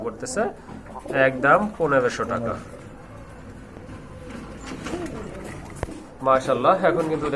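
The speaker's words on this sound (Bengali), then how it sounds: "এক জোড়া রেড চেগার কবুতর খুবই সুন্দর" Red checker pigeons coo softly at a pigeon market in the lulls between people talking close by, their low murmuring partly masked by the voices.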